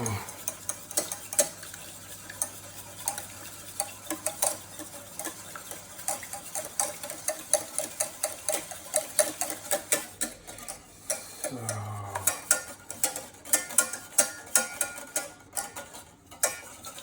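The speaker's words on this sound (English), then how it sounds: "I'll actually just whack the egg in here and then beat it in there" An egg is beaten into dough by hand, making quiet, rapid repeated tapping and squelching strokes in a steady rhythm throughout, close and soft.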